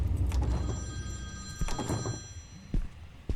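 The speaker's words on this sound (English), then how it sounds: "that's Emily's phone. She has an old-timey ring" An old-fashioned landline telephone rings in the horror game Forbidden Terror: Ouija is Not a Board Game, with bursts of bell and thumping noises that are moderately loud and close.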